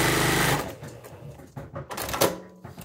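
Sewing machine stitching quilt pieces at a quarter-inch seam, a steady fast mechanical whir over the first half second, then quieter intermittent stitching and handling clatter.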